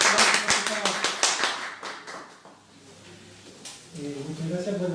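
A seated audience at a book presentation applauds with dense clapping that tapers off after about two seconds, followed by a short lull and then a voice speaking.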